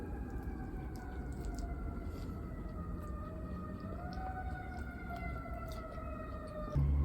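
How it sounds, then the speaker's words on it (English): Ambulance sirens wail steadily in the distance through a Boston neighborhood, rising and falling faintly over a low outdoor rumble, with no one speaking. "there's a bunch of ambulances and sirens going around"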